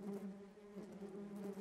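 Steady, dense buzzing of many bees swarming close by, a continuous droning hum that swells and dips slightly without pause.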